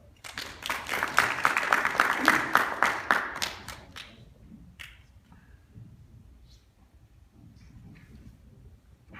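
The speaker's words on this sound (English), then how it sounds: "Please give him a clap." A small audience at a university lecture claps in a brief burst of sharp, distinct hand claps that swells and then thins out to a few scattered claps, leaving quiet room noise.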